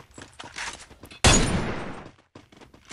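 Gunfire from a weapon in the battle royale game Free Fire, a single loud close burst of rapid shots lasting under a second amid quieter game sounds.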